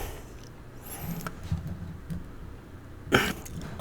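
A single sharp cough bursts out near the end after a few seconds of quiet room noise and soft rustling.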